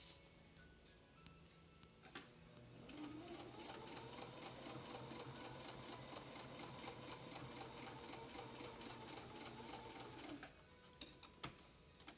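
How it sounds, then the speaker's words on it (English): Sewing machine stitching along the folded edges of a prayer quilt, a steady rapid mechanical chatter that runs for about eight seconds at moderate loudness, framed by quieter handling noises before and after. "you go back and you sew"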